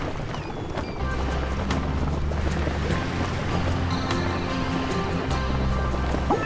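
A boat sails across the sea in the Build-a-Bear Workshop: A Friend Fur All Seasons video game. Steady rushing waves and wind wash continuously under a faint, sustained musical tone.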